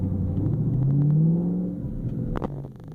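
A car with a full exhaust downshifts, engine revving and dropping, its exhaust rumbling loudly with pitch sliding upward, then a few sharp crackles near the end.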